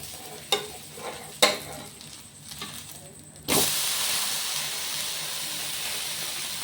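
Wheat dosa batter hits a hot pan with a sudden loud, steady sizzle that keeps going to the end, after a few light clinks and soft handling sounds.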